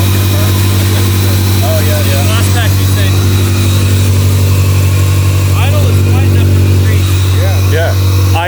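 A supercharged Honda K-swap engine in a Lotus 2-Eleven idles with a steady, deep, low rumble, close and loud throughout, while people talk over it intermittently.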